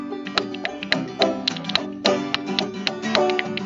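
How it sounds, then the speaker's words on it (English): Pair of kitchen spoons rattled back and forth against a leg, giving quick, bright clicking taps in an uneven rhythm, close and fairly loud, with a faint tonal hum underneath. "down on your leg, and go back and forth and get a little sound."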